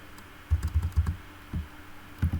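Close computer keyboard typing during an Android programming session: a quick burst of several soft key clicks, then a pause and a few more isolated keystrokes, with no talk.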